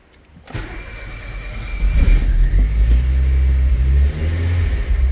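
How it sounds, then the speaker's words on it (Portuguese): A Chevrolet Corsa D engine cranks and catches, then settles into a steady, close, low rumble that holds to the end. "Agora vamos fazer o carro ligar, né?"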